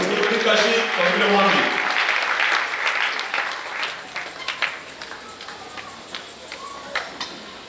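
A church congregation applauds, a dense clatter of clapping that starts loud, then thins into scattered claps and taps while voices carry on over it.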